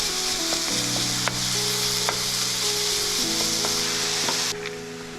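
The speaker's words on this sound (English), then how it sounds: "I'm looking for a little bit of browning on that sausage if I can get it, just for flavor." Turkey sausage, partly frozen at first, fries and browns in a pan with a little garlic, a constant loud close sizzle with a few faint clinks of stirring and no voices.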